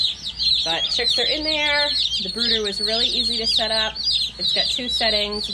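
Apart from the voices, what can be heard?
baby chicks chirping in brooder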